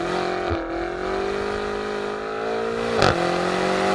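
A 2021 BMW M5 Competition drifts in rear-wheel drive mode with traction off, its engine holding a loud sustained drone with a short lift near the start and a sharp rev burst around the three-second mark.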